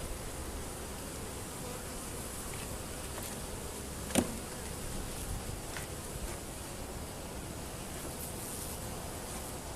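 Honey bees buzz quietly around an open hive during an inspection of frames holding nectar and capped honey, a steady, faint hum with one brief knock midway.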